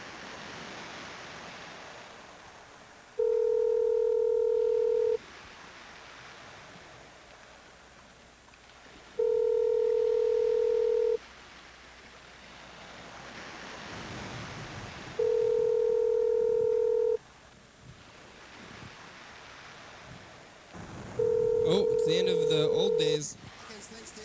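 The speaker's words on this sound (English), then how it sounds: "Let's call Reese now." A telephone dials out to call someone, with four separate steady electronic tones of about two seconds each, spaced several seconds apart, and someone talking between them.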